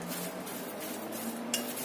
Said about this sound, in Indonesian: Kita aduk lagi sampai semuanya tercampur rata.